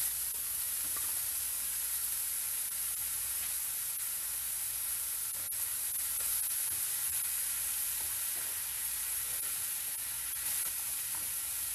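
Tofu and bean sprouts stir-fry in a hot pan with a steady, even sizzle that holds unbroken throughout, interrupted only by faint scrapes of stirring.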